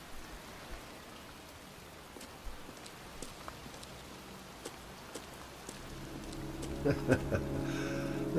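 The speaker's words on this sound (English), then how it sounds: "It's pissing down rain, I'm getting a cold." Steady, heavy rain hisses in the video game Heavy Rain, with scattered drop ticks. Soft musical tones swell in toward the end.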